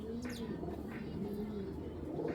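Giribaz pigeons coo in low, rolling murmurs with a few faint chirps, close and continuous over a busy background.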